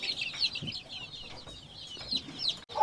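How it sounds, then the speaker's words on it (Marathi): Flock of over forty month-old native gavran chicks kept with a hen, peeping and clucking in quick, scattered bursts at moderate volume, with no talking. "ही एक महिन्याची पिल्लं आहेत किती पिल्लं असतील साधारण ही आता एक चाळीसच्या वर पिल्लं आहेत"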